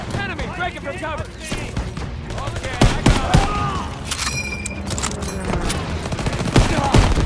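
Gunfire in the Call of Duty WWII fortress mission: dense, loud bursts of rifle and machine-gun fire crackle and thud continuously, with shouted voices mixed in throughout.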